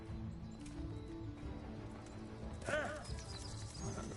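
Horse hooves clip-clopping with a sudden whinny in a medieval open-world video game, the neigh rising sharply midway over steady ambient background.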